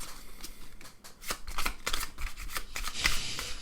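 A deck of playing cards is shuffled close up, crisp riffling bursts and snaps repeating in quick irregular rhythm, with no talking.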